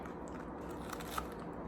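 Close, faint crunching as a hot, low-carb baked cracker is bitten and chewed, with small crackling snaps over a low background hiss.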